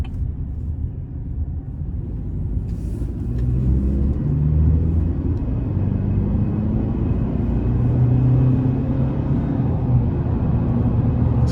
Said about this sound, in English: it gets up to speed with ease. And I love the turbo sound